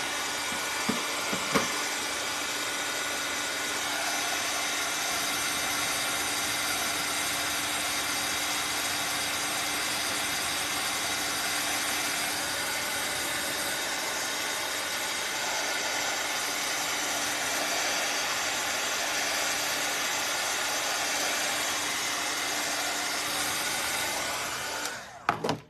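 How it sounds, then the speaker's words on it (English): A hair dryer blows steadily to dry paint on a Christmas gnome craft, a close, loud, continuous whir that runs unbroken for about 25 seconds before cutting off. "And I am gonna hit this all with the dryer."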